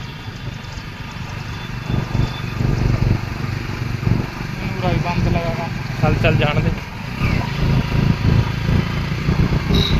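A motorcycle labours uphill in first gear, its engine chugging in a continuous close rumble with rising and falling revs, while people talk over it.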